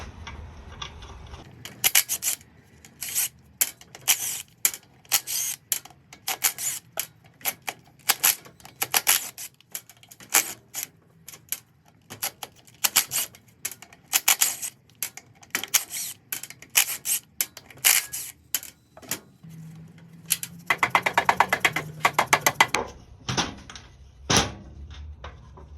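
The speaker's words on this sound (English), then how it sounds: "Next, we'll remove the rear cover. It's 12mm bolts." A ratchet clicks in quick repeated bursts while 12mm bolts come off the rear cover of a Toyota A131L automatic transmission, with a few short pauses and some metallic handling noise near the end.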